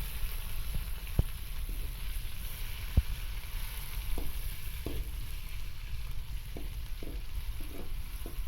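Chopped tomato frying in a pan with onion and ginger-garlic paste for a chicken liver dish, a continuous close sizzle broken by a few sharp clicks and stirring knocks.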